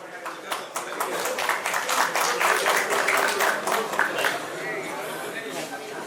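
Audience at a book launch event with former president Ram Nath Kovind applauding steadily for several seconds, loud dense clapping that tapers off, with chatter underneath.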